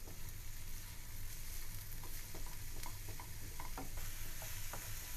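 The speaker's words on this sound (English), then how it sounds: "And we're going to keep sauteing them until they are nice and transparent." Chopped onion and green onion sautéing in a pan, a soft continuous sizzle with scattered light taps and stirring clicks, fairly faint and without voices.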